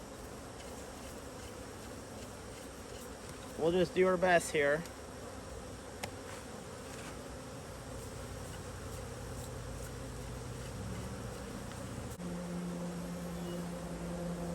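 Honeybees buzz in a steady, close drone around freshly cut Ross Round comb honey during a harvest, continuous throughout, with someone speaking briefly over it.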